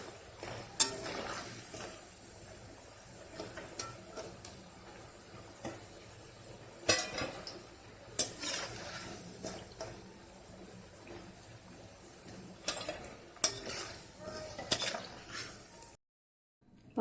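Bitter gourd pakoda fries quietly in hot oil with a soft sizzle, broken by frequent sharp clinks and scrapes of a metal utensil stirring the pan, ending in a brief silence.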